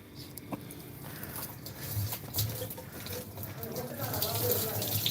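Water runs into a drum with a faint splashing and trickling that stays steady and grows slightly fuller, while quiet voices murmur in the background.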